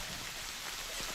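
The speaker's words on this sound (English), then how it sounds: "The rain is really coming down hard." Heavy rain falling steadily at an outdoor para trap shooting final, a dense, loud, continuous hiss of drops with no voices.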